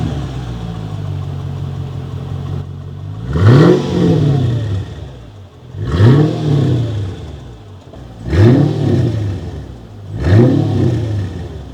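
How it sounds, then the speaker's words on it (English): A Mercedes SL500 engine revs hard four times in a steady rhythm, each throttle blip rising and falling back to a rumbling idle, close and loud with no talk. "the car does sound like this."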